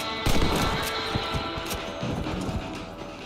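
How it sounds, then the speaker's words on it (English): Rifle shots ring out in a Red Dead Redemption game while rabbits are hunted, a quick burst of loud sharp cracks followed by further scattered shots over a dense, noisy background. "You're better at shooting rabbits than outlaws, I see."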